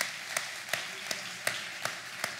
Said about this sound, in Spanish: Damos un aplauso fuerte al Señor.